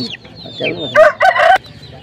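Chickens cluck and crow loudly up close at a village market in the Sundarbans, where ducks and fowl are being sold, with a burst of sharp calls near the middle.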